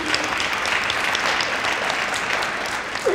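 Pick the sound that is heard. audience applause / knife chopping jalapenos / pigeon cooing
audience applause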